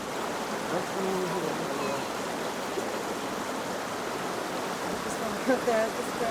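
The West Twin River flows near the Maribel Caves with a continuous, moderate rush and babble of moving water. Faint voices come through now and then under the flow.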